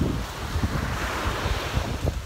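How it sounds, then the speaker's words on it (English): Strong wind buffets the microphone at a beach in Mexico while ocean waves surge and break close by, a steady rushing roar with low gusty thumps and no voices. "it's actually pretty windy again right now. The waves are strong."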